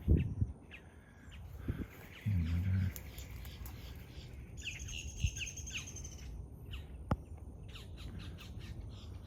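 Birds chirp and squawk outdoors among fruit trees growing achachairu, imbe and cashew, with scattered calls at moderate distance over a steady background hiss.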